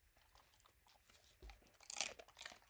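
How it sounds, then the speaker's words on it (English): Quail crunching a crunch stick pet treat, a run of faint pecks building to a few sharp, close crunches near the end, with no talk. "Do you hear that crunch? Ah, that's why they are called crunch sticks."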